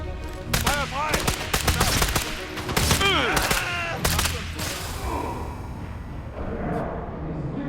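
Bursts of gunfire from the video game Sniper Elite 5, rapid crackling volleys mixed with shouted game voices and whistling tones, fading into quieter background noise near the end.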